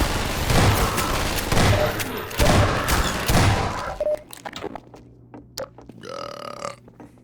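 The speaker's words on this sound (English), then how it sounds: "I burped." A burp heard while playing Half-Life 2, partly masked by loud, rapid game gunfire and explosions, with quieter game sounds and tones following.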